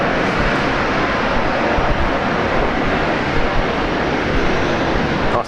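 A Nauru Airlines Boeing 737-300 jet airliner at Brisbane Airport roars loudly and steadily in a broad, unbroken engine rush, heard without talk until it cuts off abruptly at the end.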